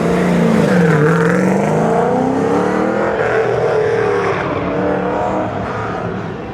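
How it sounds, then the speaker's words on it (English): A race car at the Goodguys Colorado Western States Autocross Shootout in 2025 runs a hot lap, engine pitch dipping and rising through the gears, loud and close before fading slightly. "Dragon Lady GTA Racing, the last hot lap of the show."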